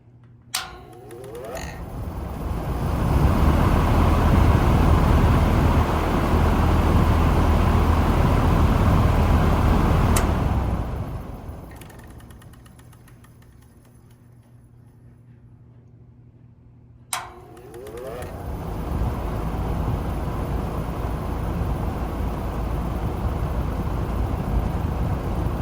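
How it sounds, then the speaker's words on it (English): The motor of a vintage McGraw Big 20 belt-driven window fan runs with a loud, steady low drone, fades down to near quiet midway, then starts up again and keeps running. "I will give you a quick audible demo of the motor."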